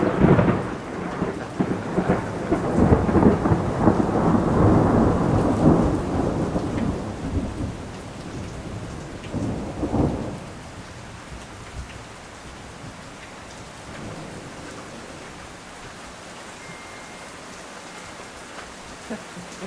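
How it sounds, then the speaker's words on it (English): A thunderstorm with long, rolling thunder rumbling over heavy rain for the first ten seconds, then easing into a steadier, quieter downpour. "there are some definite positives to thunder and lightning"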